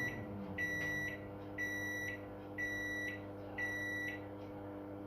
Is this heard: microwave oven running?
yes